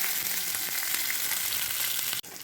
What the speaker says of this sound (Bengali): মশলাটাকে আমি ভালো করে ভাজবো।